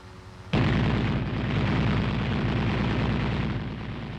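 A machine gun on the commander's cupola of an M551 armored reconnaissance airborne assault vehicle fires a sustained, continuous rattling burst that starts abruptly and stays loud and close for several seconds.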